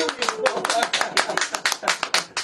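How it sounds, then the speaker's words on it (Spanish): A small audience claps for a performer, a brisk patter of handclaps close by, fairly loud and steady over a couple of seconds with no talk on top. "Un aplauso para Emiliano"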